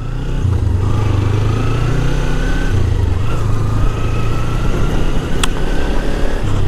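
Kawasaki Ninja 300 motorcycle ridden on the Madurai ring road, its engine droning steadily at close range with slight pitch shifts as the revs change, wind rush underneath.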